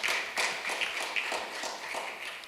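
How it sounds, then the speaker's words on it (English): Audience applause at a UK-Ghana business forum, a steady wash of many hands clapping at moderate loudness, fairly close and continuous for a couple of seconds with no talk over it. "So a big round of applause for yourself."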